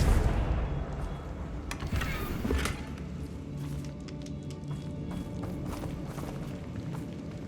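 Blasting Confringo spell cast in the Hogwarts Legacy video game, a loud burst with crackling impacts early on, followed by a steady rumbling game soundscape that fades to a lower level.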